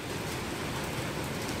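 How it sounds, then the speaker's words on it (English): Steady rain falls outside in early autumn, a dense, even hiss that holds level and fills the short clip with no gaps or voices. "You're watching the rain?"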